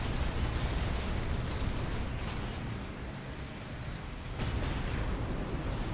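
Cannon fire and heavy impacts in the mech combat game Armored Core 6, a dense rumbling barrage of booming blasts with a brief lull midway before the firing swells again.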